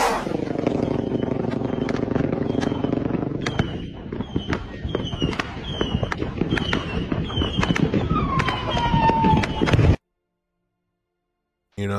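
Fireworks burst repeatedly at a nighttime celebration, a dense stream of loud crackling pops and sharp bangs over a roaring rumble, with one rising whistle near the end before the sound cuts off abruptly.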